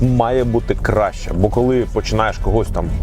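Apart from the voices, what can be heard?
No distinct noise like a dog, phone or traffic.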